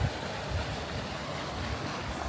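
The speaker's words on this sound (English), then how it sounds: "There's plenty of water going through it there." Water rushes steadily through the lower end of a canal lock, a continuous moderate wash with a faint wind-like hiss and no voices.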